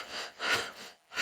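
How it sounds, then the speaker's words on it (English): Slow, audible breaths in and out during a breathing exercise, close and airy, two long breath swells with a pause and another starting, no talking. "I'm just breathing in and out"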